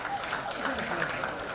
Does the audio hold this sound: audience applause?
yes